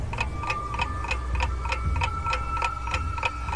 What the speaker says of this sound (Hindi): सिर्फ घड़ी के सुइयों की टिक टिक करने की आवाज चले जा रही थी